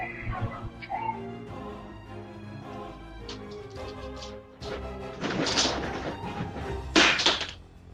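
Two dogs bark and yelp during a 6.2 magnitude earthquake in an Istanbul apartment, scattered barks building into louder bursts along with crashing and rattling of shaking household objects near the end.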